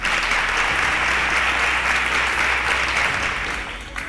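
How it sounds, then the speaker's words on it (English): A studio audience applauds a quiz contestant on a televised quiz show, dense and loud, steady across the whole stretch before easing off slightly at the end. "Well done, a round of applause for her."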